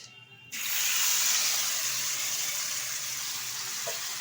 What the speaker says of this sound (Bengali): এখন এর মধ্যে দিয়ে দেব মেখে রাখা শোল মাছ